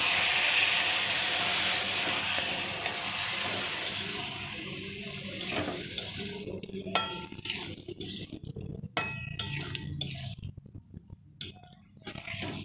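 Jackfruit coated in yogurt hits a hot spiced pan with a loud, continuous sizzling hiss that slowly settles, broken later by scattered scraping clatters as it is stirred.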